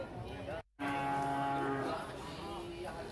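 Cattle at a sacrificial cow market in Tasikmalaya give a loud, drawn-out moo close by, the call holding steady for a couple of seconds over faint market background.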